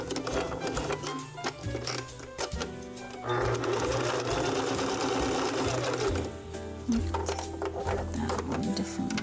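A home sewing machine stitching in sustained bursts, a loud fast mechanical whir that stops and restarts a few times, with someone speaking briefly between runs.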